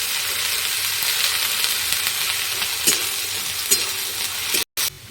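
Carrots, potatoes and green chillies fry in a pan for veg chowmein, giving a steady close hiss and sizzle with occasional soft stirring clicks, and no talking.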